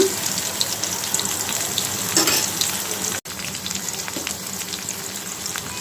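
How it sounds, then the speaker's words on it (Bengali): Onion paste and ginger paste hitting hot oil in a pan, a loud steady sizzle and frying hiss with a brief cut partway through, cooking for a Bengali baim fish and small potato curry. "এখন দিয়ে দিব পেঁয়াজ বাটা আদা বাটা"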